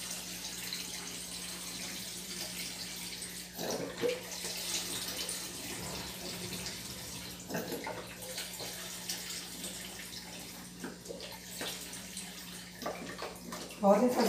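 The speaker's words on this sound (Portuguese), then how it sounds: "coloca tudo aqui dentro, os 10 litros de água." Ten litres of tap water run steadily into a container holding chlorine bleach, a continuous splashing flow at close range, with a voice talking quietly in the background.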